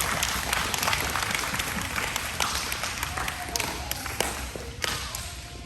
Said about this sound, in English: give all of these fabulous students just one more round of applause